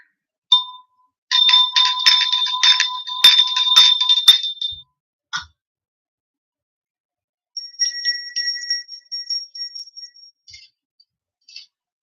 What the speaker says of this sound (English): I'm going to clear up your energy with some bells and it's going to get louder.